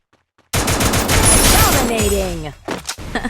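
Loud, rapid gunfire from a shooting video game erupts suddenly and rattles on for about two seconds during a headshot attempt, then trails off into a few scattered shots.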